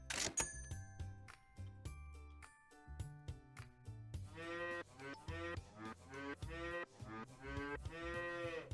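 Cows moo repeatedly in a farming strategy game played on ultimate difficulty, the lowing calls stacked over a jaunty background melody with short gaps between phrases.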